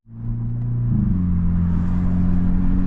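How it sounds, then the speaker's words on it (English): A Hyundai Elantra N engine swells up from silence into a loud, steady drone and rumble at speed, close and unbroken, heard from inside the car on a track run. "It's also a good test of what the sound of the car will be."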